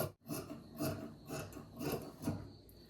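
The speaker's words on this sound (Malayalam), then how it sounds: "ഞാൻ ഇപ്പം തന്നെ അങ്ങ് കട്ട് ചെയ്ത് മാറ്റിയേക്കാം കട്ട് ചെയ്ത് മാറ്റുന്നു" Cloth being cut while making straight-leg pants, heard as a steady series of about five rhythmic rasping strokes, close and fairly quiet, with no talking.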